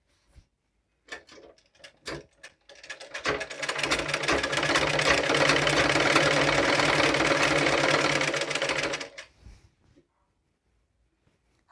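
A sewing machine stitches down a folded fabric strip on a girl's top: a few short taps, then a steady rapid mechanical whir for about six seconds, close and clear, which stops abruptly into near silence.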